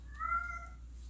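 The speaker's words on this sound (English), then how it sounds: "There's my cat," A house cat gives a single short, clear meow indoors, moderately loud against a quiet room hum, with no one talking.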